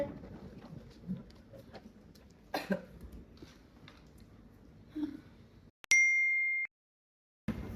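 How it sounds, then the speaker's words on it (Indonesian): Phone notification chime in a drama scene: one bright, clear ding rings out after a stretch of quiet room noise and a soft cough, then fades to silence. "Notif apa tuh?"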